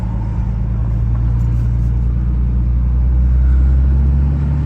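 A 3rd gen Cummins diesel truck with a cooling failure drives and turns around, its steady low engine rumble close and loud throughout, swelling slightly as it pulls through the turn.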